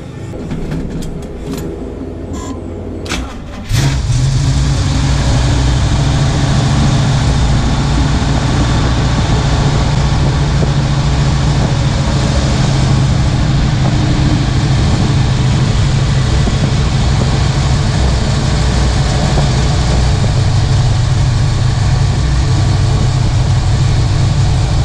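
A 1968 Chevrolet Nova V8 cranks briefly, then catches and settles into a loud, steady low idle that runs on without a break.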